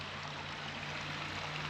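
Spring water trickling out of the ground at a natural spring in Dixon Springs State Park, a soft, continuous babble of running water heard close up and alone.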